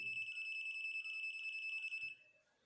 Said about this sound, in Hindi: जैसे ही हम इस वोल्टेज मीटर को तार के साथ लगाएंगे तो ये ब्लैकिंग शुरू कर देता है और बीप आनी शुरू हो जाती